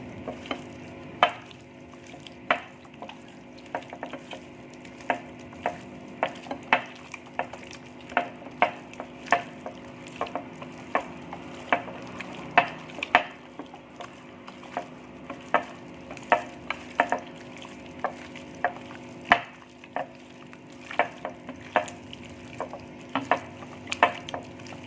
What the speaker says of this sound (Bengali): এবার এই সবগুলো দিয়ে আমি খুব ভালো করে এটা মেখে নেব।